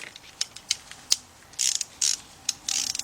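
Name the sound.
ratchet with 13mm deep socket, 3/8 drive, on Chrysler engine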